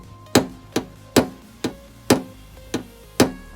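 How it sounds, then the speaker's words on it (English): A hammer taps lightly on a dented car body panel, seven separate metallic knocks at a slow, steady pace with ringing decay, and a voice speaks briefly. "I'm just tapping it down very slightly, just using the weight of a hammer to tap the little bits down around the dented"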